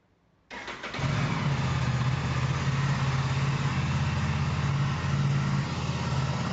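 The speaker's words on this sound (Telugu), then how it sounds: "ఒకసారి ఈ బైక్‌ని స్టార్ట్ చేసి మీకు ఎగ్జాస్ట్ నోట్ కూడా వినిపిస్తాను." A 2026 Aprilia RS 457 motorcycle fires up after a brief crank, then settles into a steady, loud, close idle with a throbbing exhaust note that holds for several seconds, no talking.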